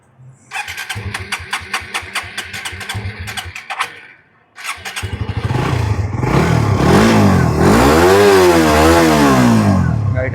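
A used motorcycle's engine, in fresh condition with no abnormal noise, starts with sputtering pops at a motorcycle showroom, then idles and revs up and down repeatedly, loud and close, with no talking.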